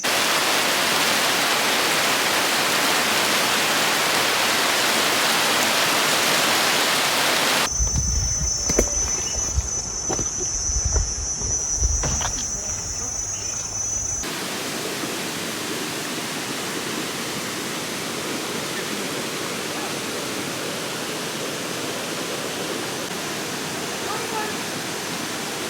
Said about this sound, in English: I'm really excited to see the waterfall with them.